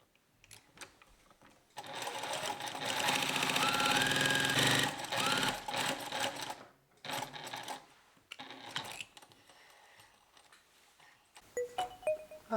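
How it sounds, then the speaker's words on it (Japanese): A sewing machine stitches a French-sleeve blouse in bursts, with a long loud run of steady whirring and several shorter stop-start runs, close and alone with no talking. "半分ずつで縫います。"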